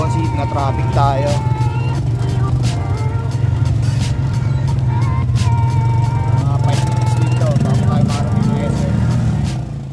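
Cars and buses idle and creep through jammed road traffic, a dense steady rumble of engines close around with occasional brake hiss, under talk and music.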